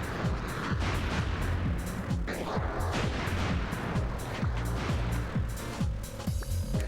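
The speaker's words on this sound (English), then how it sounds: "Oh, he's shooting at me." Enemy fire in the video game Buck Bumble comes as a rapid run of sharp, punchy shots, repeated closely over a dense layer of game effects and music.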